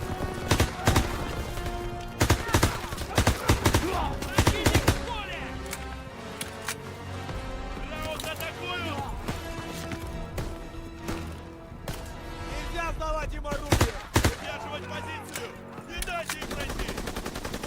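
Rapid bursts of automatic rifle fire in a WWII-era shooter game set in 1941, loud and repeated in clusters across the whole stretch, with game effects and a voice talking over parts of it.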